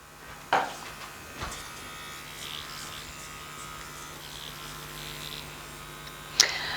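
A steady, faint electric buzz from a Dragonhawk Mast permanent makeup tattoo machine running at 4.5 volts runs throughout, with a couple of sharp clicks near the start and one near the end.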